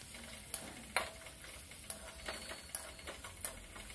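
Ginger garlic paste fries in a pan while being stirred, a soft steady sizzle broken by light, irregular ticks and scrapes of the spoon against the pan.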